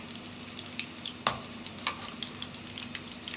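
Chicken with sweet and sour vegetables browns in a pan, a steady close sizzle with a sharp clatter of stirring near the start and scattered small pops, no talk.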